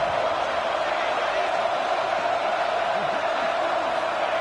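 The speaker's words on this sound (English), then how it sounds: "Guns up, and so is the noise. The crowd electric trying to help Tech on this third down." A Texas Tech college football stadium crowd roars during a third down, a dense, steady wall of cheering and noise that holds at the same loud level throughout.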